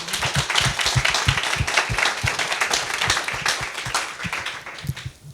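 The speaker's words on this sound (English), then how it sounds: "So a big round of applause for Lynn." An audience claps enthusiastically, many hands at once in a lively, continuous burst that fades near the end.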